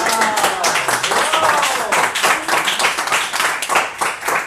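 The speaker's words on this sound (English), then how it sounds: "Oh, yeah, clap!" Audience at a CERN presentation clapping in a steady burst of applause filling the room, with people's voices talking over it.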